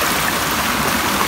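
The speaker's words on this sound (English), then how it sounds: "the waterfall has never been this high" Meyah waterfall in Paramin pours in a loud, continuous broadband rush of falling water, heard close up without talk for a brief moment.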